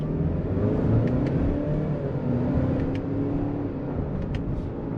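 A 2021 Ford Explorer XLT pulls hard in manual mode with paddle shifters on a highway, a steady, close engine drone with rising tones and road rumble throughout, no talking.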